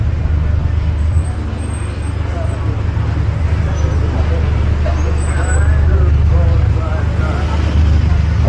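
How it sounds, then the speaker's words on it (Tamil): Dense road traffic on a Bangkok street at night, a steady low rumble of passing cars and engines that stays loud and continuous throughout, with faint background voices mixed in. "அது கிராஸ் ஆகும்போது நிறைய டிராஃபிக் வந்து போச்சு."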